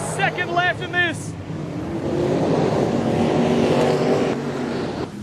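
Late model race cars roar around Carina Speedway in a final, the engine noise building into a loud, sustained drone after a commentator speaks briefly at the start.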